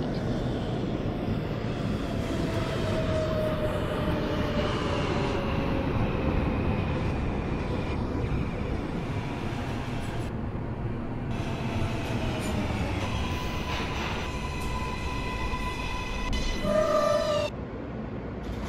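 A Kawasaki R143 subway car running on a Coney Island-bound M train in the OpenBVE simulator. The motor whines steadily over rumbling wheels and rail clatter, with rising and falling tones and a brief squeal near the end.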